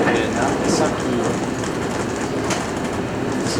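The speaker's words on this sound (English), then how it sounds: "We are on the bullet train going to Nagasaki." Inside a bullet train cabin bound for Nagasaki, Japan, a steady rolling rumble of wheels on rail fills the space with faint rhythmic clicks, carrying on evenly throughout.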